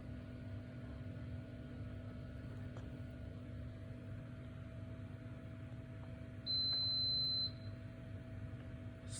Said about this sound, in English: when the beep is starting